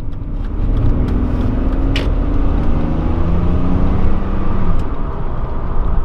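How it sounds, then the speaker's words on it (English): A BMW 5 Series on a test drive accelerates through its gears, a loud steady engine drone with rising tones and smooth shifts heard from inside the cabin, no talking. "you want to get the car up to a decent speed to make sure the transmission is going through all the gears without slipping"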